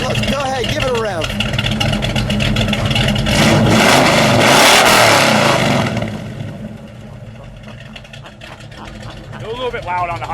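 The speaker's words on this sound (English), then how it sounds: "let's go ahead, give it a rev" A 1979 AMC Spirit AMX with a 360 V8 and Flowmaster mufflers revs up, the engine swelling to a loud peak mid-clip before settling back to a throaty idle, with voices talking over it.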